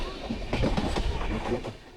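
A train running on the Vizag to Borra Caves route, rhythmic clickety-clack of wheels over rail joints heard from inside the carriage, close and steady with no talk.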